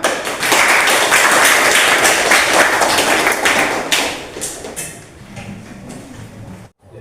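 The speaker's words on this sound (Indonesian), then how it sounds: "Coba tepuk tangan." A seated group at a teacher-training class session claps together in a dense, loud burst lasting a few seconds, then the applause thins out and trails off into quiet room tone.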